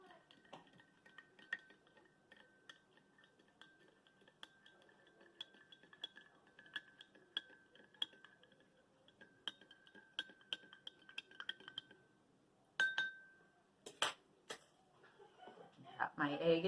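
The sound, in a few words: teaspoon stirring salt into water in a glass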